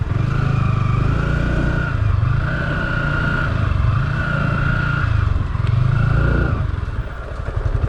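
A motorcycle stuck in mud revs repeatedly in strong surges, loud and close, with clattering as the bike labors.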